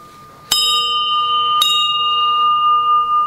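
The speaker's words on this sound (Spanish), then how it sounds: "Aquí la parte donde estoy golpeando es el hum de la campana." A bell is struck twice, each sharp clang followed by a sustained ringing hum that carries through, loud and close, with no voices.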